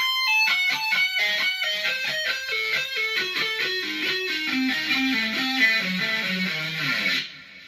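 A distorted electric guitar runs a fast descending diminished lick in steady triplet groupings, loud and solo, stopping abruptly near the end.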